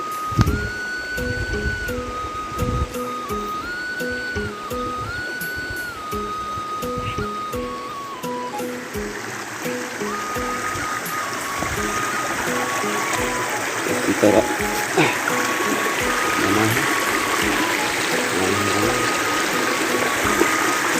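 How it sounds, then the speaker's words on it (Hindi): River water flowing at Langherang waterfall in Karbi Anglong, Assam, a broad steady rush of stream noise that swells in the second half, with someone talking over it early on and a recurring electronic tone in the first part. "ये नदी बह गए हैं इस तरफ और उस तरफ से नदी आ रहा है"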